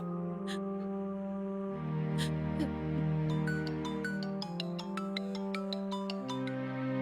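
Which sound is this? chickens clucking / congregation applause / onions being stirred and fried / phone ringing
phone ringing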